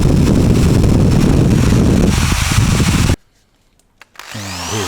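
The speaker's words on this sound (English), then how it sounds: "And then I did this. Yep, that's a wire brush drill bit." A wire brush drill bit grinds a metal part back to bare metal in a loud, continuous rasping run lasting about three seconds, then stops abruptly.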